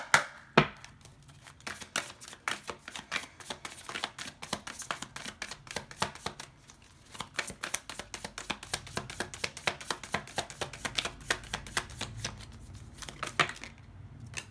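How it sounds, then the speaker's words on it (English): A tarot card deck being cut and shuffled, producing a steady run of crisp card flicks and riffling snaps at close range, with no talking. "let's cut up the deck and get into this for you guys"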